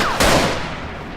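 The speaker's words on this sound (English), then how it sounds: "no matter how inaccurate this rifle is, I've shot an American and I'm proud of it" A single loud rifle shot in the Iraq-set shooter Battlefield Iraq, a sharp crack with a decaying ringing tail, no voices.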